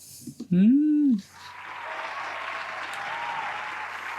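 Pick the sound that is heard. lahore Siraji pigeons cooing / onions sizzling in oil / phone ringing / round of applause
round of applause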